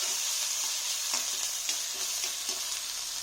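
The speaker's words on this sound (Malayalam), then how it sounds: "നമുക്കിതിലേക്ക് ഉള്ളി ഇട്ടൊന്ന് വാട്ടിയെടുക്കുകയാണ് ചെയ്യാൻ പോകുന്നത്" Onions sauté in a pan for a Kerala-style meat rice dish, giving a continuous bright sizzle with light, irregular stirring taps, close and steady, with no talking.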